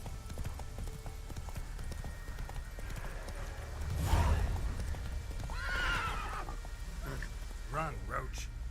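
Roach the horse in The Witcher game, hooves clip-clopping at a steady gallop with a loud whinny near the middle and more neighing toward the end, over a constant low rumble.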